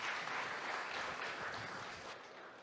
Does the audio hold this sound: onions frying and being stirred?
no